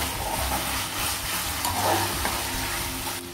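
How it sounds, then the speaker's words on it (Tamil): Mutton masala sautéing in hot oil for a mutton gravy, a steady close sizzle with stirring scrapes throughout, no voices. "அப்புறம் மட்டன் மசாலா போட்டு எண்ணெயில் கொஞ்சம் வதக்கிக்கோங்க"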